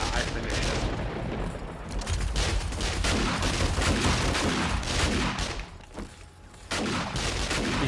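Robotic turrets in 7 Days to Die firing continuous rapid bursts, loud and dense for nearly the whole stretch with a brief lull near the end, and voices faintly mixed in.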